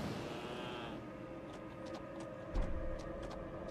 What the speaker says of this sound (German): Hey Schaf, ich will dir nichts Böses.